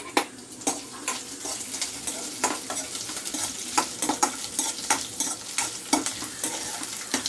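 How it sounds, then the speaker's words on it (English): Besan dry roasting in a kadai, a spatula scraping and tapping against the metal in a steady rhythm of sharp strokes over a soft hiss, with no voices. "just roast the besan dry"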